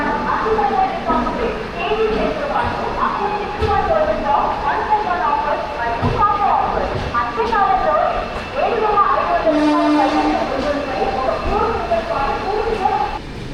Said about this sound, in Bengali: এই হচ্ছে আমাদের ট্রেন।